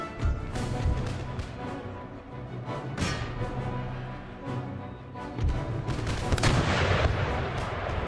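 Artillery and musket fire from an Empire: Total War battle, with repeated booming shots and crackling volleys spread across the scene over a continuous din of distant combat.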